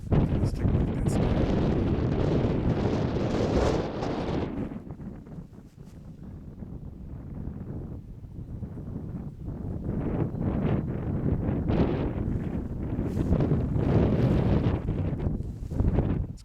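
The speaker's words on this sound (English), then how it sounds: "It's kind of breezy up here, really breezy" Strong wind buffets the microphone on the open top of Huckleberry Knob, a mountain in North Carolina. Loud gusts come first, then a quieter lull, then the wind roars up again.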